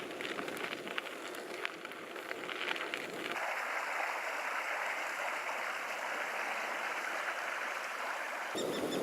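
A river flows beside a cycle path through hilly countryside on the Werse route near Beckum and Münster, giving a steady broadband rush of water that holds evenly for most of the stretch after a rougher, uneven start.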